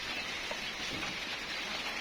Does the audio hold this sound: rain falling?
yes